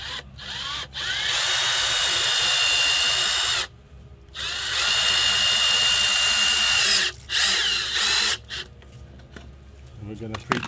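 A power drill whines loudly and close up as it pre-drills screw holes for a homemade kayak rack, running in long steady bursts with short pauses between, then a few quieter tool handling noises.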